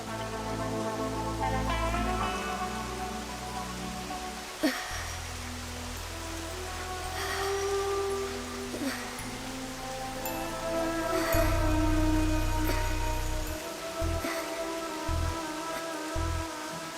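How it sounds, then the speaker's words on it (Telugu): Steady rain patters on a surface, a continuous soft wash of drops with low hum and tonal noise beneath, no voices. "వర్షం చాలా చల్లగా ఉంది"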